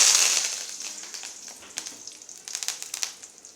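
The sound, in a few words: curry leaves sizzling in hot oil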